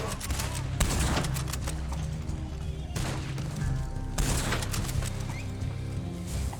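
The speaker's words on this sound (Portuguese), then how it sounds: "5 tiros de carcano." Carcano rifle shots in Red Dead Online, several booming reports spaced a second or more apart, each with a long rolling echo, over a busy background that includes horse hooves.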